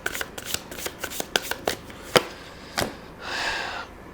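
A tarot deck is shuffled by hand, close up: a run of quick crisp card flicks, then a short, dense riffling burst.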